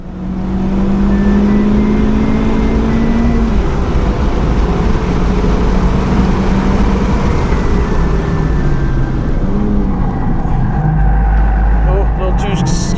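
A race car on a hot lap at Stratotech track gives a loud, continuous engine roar whose pitch shifts as it climbs and drops through the gears. A voice talks over the engine noise throughout.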